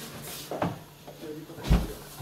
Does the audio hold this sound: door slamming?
yes